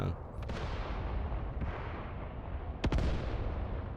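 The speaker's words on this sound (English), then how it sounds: "Seems like our own infantry mortars maybe are firing against this push here" Infantry mortars firing in the WW2 game Mius Front, with dull booming reports over a constant rumbling battlefield din, one sharp blast near the start and another toward the end.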